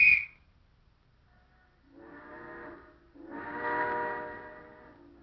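Steam train whistle sounding during a vintage Hollywood film stunt shoot, two sustained blasts, the second longer and louder, heard fairly clearly after a short click.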